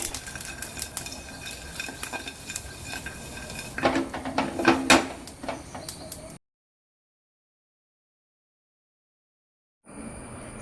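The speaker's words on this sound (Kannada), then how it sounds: "ಸಾಸಿಮೆ ಬೆಳ್ಳುಳ್ಳಿ ಬೊಕ್ಕ ತಾರದೆಣ್ಣೆ ಒಂಜಿ 2 ಚಮಚದಾತ್ ಪಾಡ್ದು" Mustard seeds and garlic frying in about two spoonfuls of coconut oil for a herbal bark decoction, with scattered crackling pops and spoon-on-pan scraping that swell midway, then a long silence before the sizzle resumes; no talking.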